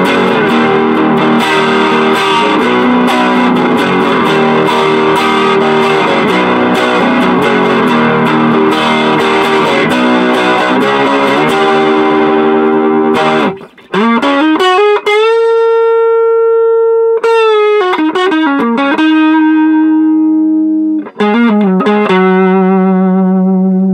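Shea Guitars Double Cut electric guitar played through the middle pickup position with distortion and effects, first a dense strummed passage of chords, then loud sustained single notes and bends ringing out alone with brief gaps.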